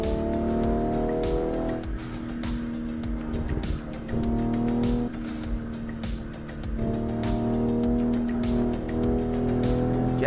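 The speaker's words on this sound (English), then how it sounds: "I'm driving a Toyota Supra" Toyota Supra MK5 driven in the Assetto Corsa racing game, a loud continuous engine drone rising and falling through gear shifts with intermittent tire squeal, no talking.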